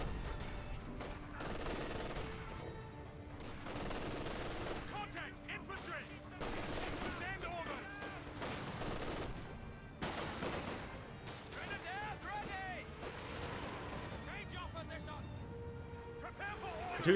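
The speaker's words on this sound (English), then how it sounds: "Panzerwerfer barrage." A Panzerwerfer rocket artillery barrage in Company of Heroes 2 lands as scattered bursts and rumbling impacts amid ongoing battle noise, while a voice keeps talking over it throughout.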